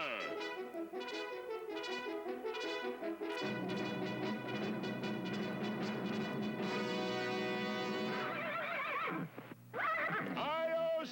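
A loud horse whinny rings out over a swelling orchestral score, followed by more music and a brief second neigh near the end.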